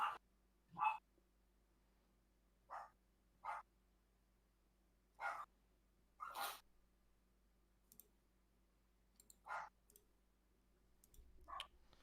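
Dogs bark in short, separate bursts from a room nearby, about eight or nine sharp yips and barks spaced irregularly over a quiet, low background hum.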